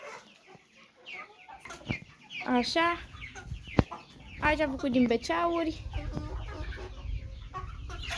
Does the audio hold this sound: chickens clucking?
yes